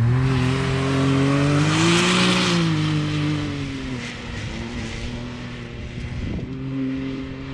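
Side-by-side UTV revving hard near a reservoir campground, a loud droning engine whose pitch climbs and bends as it rips past, then fades to a lower hum.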